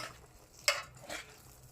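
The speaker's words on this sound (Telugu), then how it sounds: "ధనియాల జీలకర్ర పొడి, శనగపిండి ఇవన్నీ వేసుకొని ఇలా కలుపుకుందామండి" Boiled carrot and potato mashed with gram flour, coriander-cumin powder and salt for bonda batter: soft, close squishing and stirring sounds with one brief clink of a utensil against the bowl.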